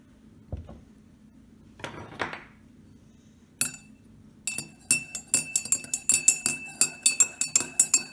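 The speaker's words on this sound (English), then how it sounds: "I'm going to stir my coffee." A spoon stirs coffee in a glass, giving a quick run of bright, close clinks that speed into a steady ringing rhythm after a few softer taps and knocks.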